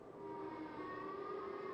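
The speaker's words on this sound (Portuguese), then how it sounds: "Enquanto as sirenes de tornado tocavam" Tornado warning sirens wail steadily and loudly as an F5 tornado approaches, a sustained tone with no voices.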